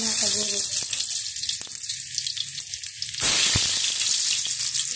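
Pork sizzles in a hot pan as mung bean squash cooking begins, a steady hiss that grows louder and brighter partway through, with a voice talking faintly at the start.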